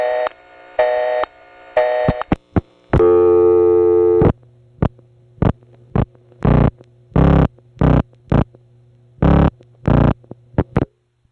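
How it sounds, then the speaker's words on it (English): A 1970 New York City telephone network busy signal: a steady tone pulsing on and off in short, regular bursts, loud and close, with a few brief clicks and tones at the start. "This busy signal belongs to either the high-type ring or the low-type ring."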